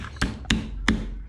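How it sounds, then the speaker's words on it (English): Three sharp hammer blows ring out at even intervals, close and clear, as aluminium brackets for a homemade 12-volt fuse holder are bent into shape. "Just bend them out with a hammer."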